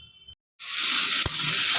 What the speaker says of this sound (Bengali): আলুটা কেটে গ্যাসটা জ্বালিয়ে দিয়েছি, অল্প একটু তেল দিয়েছি, একটা আলু কাট ভাজবো তো তাই জন্য অল্প তেল দিয়েছি।